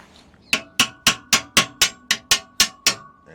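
Hammer tapping a part through during a 1980 Suzuki FZ50 restoration: ten crisp, evenly spaced metallic taps in a steady rhythm, close and clear with a quiet background.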